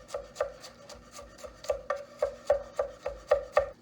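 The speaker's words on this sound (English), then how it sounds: "I want to chop this garlic" Garlic chopped with a knife on a board, a steady series of about a dozen close, crisp thuds at an even rhythm, with no speech.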